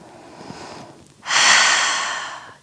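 A single deep breath during a standing yoga sequence: a faint intake, then a loud, close, airy exhale that rises sharply and fades over about a second.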